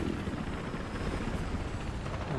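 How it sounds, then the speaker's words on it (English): Attack helicopter in the Battlefield Hardline shooter game, a steady, loud rotor drone with a dense low rumble that holds without a break throughout. "I can hear a heli"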